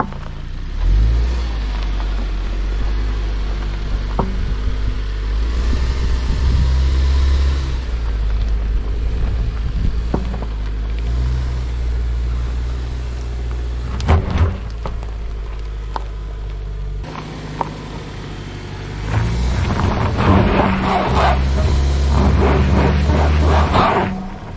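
A 2024 Subaru Ascent three-row SUV with all-wheel drive climbs a rocky dirt trail, its engine droning and rising under added throttle with bumps and knocks, heard from inside the cabin.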